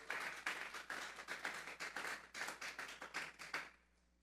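Rhythmic clapping from a church congregation offering praise to God, a sustained run of fairly even hand claps at a brisk pace for about four seconds, quieter and somewhat distant, fading out at the end.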